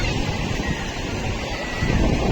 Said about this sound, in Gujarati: અને વાતાવરણ હવે આવું છે અને મોજા બરાબર ઉછળે છે બપોરના સમયે.